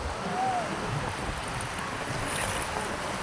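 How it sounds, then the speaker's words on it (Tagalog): Strong waves surge and wash at a beach in a constant roar, with gusty wind buffeting the microphone. "lakas ng alon"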